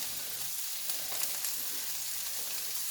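Food for a lasagne fries in a pan with a close, steady hiss and sizzle, broken by a few small crackles.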